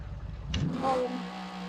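An older car's engine revving up briefly in a surge that settles into a steady hum, close and fairly loud, with no talk.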